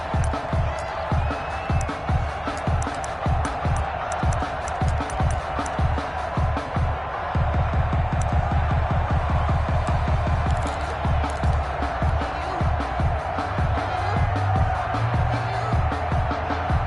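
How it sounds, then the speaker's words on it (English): Stadium crowd in Madden NFL 21 before a Baltimore Ravens versus Tennessee Titans game, a steady roar of cheering with rhythmic chanting and clapping pulses throughout. "This crowd is ready as their guys get set to match up between the Baltimore Ravens and the Tennessee Titans."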